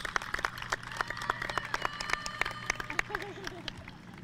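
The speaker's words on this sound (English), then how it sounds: "Another round of applause from everyone in attendance" Stadium crowd applauding on a lacrosse field at a 2021 pro lacrosse event, with steady clapping throughout, a murmur of voices, and a faint whistle-like tone near the end.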